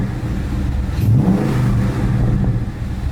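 A warm Ford Mustang GT (2015-2017) V8 fitted with a Stage 2 Performance Power Pack revs up loudly nearby and holds a steady, rough roar with a crackly edge, with no voices.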